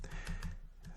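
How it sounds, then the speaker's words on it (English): Brief burst of typing on a computer keyboard while coding: a few quick, close key clicks in an uneven rhythm, heard alone and fairly quiet. "we'll just continue typing this out"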